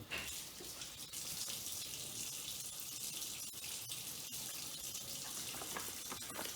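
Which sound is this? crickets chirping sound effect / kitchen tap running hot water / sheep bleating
kitchen tap running hot water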